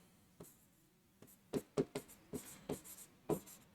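Pen strokes on paper or a board: a series of short, sharp taps and scratches in uneven bursts, close and fairly quiet, with no talking.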